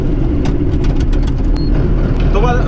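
An old tractor engine runs with its original exhaust muffler clogged and its sheet metal broken, giving a loud, constant low rumble close by throughout.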